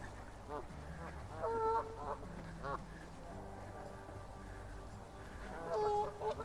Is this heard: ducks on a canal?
yes